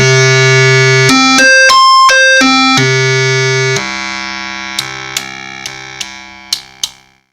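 A bright, buzzy Minimoog Model D oscillator 3 tone holding steady pitches, stepping up and down in short jumps, then sustaining lower with a few sharp clicks near the end.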